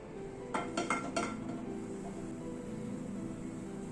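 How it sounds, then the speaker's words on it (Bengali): A frying pan is set down on a gas stove with a few quick metallic clanks and clinks, close by, followed by quiet kitchen background. "গ্যাসে একটা ফ্রাইং প্যান বসিয়েছি, হোয়াইট অয়েল দিচ্ছি।"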